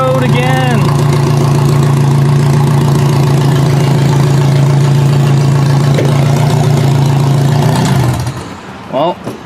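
A derby car's engine idling up close, a loud, steady low rumble held under a voice, then it cuts out near the end.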